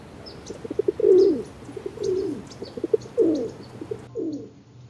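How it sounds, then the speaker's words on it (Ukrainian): A pigeon at a bird feeder coos in low, rounded phrases, four or five calls in a slow rhythm, with faint chirps from other birds in the background. "Це голуб."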